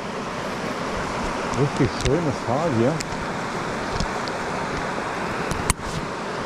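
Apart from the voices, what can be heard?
flowing river water in the Ilse valley, Harz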